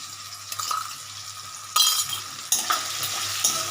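Garlic hits a hot pan with salt, ginger and spices, frying with a steady sizzle and several louder bursts of crackle, plus a few light clinks of a utensil against the pan, close by and with no talk.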